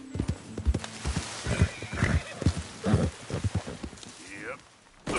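Video game horse clip-clopping along at a gallop with a whinny near the end, sounds close and loud, mixed with game noise and bursts of a player's voice.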